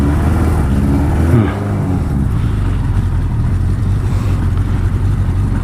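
A Suzuki GS1000 motorcycle engine cold-starts on choke, its loud, steady engine note running close by. A brief rev swell comes early, then a rough, continuous idle holds to the end.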